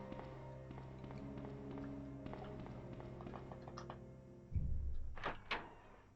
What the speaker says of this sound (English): I heard a noise in real life, in the real world, like a thud.